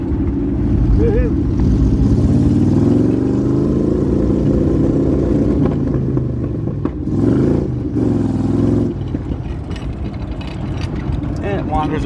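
A 1978 Jeep CJ7 with a factory V8, 4x4 and giant tires rumbles loudly and steadily while driving, the engine note rising and falling with throttle under intermittent talk.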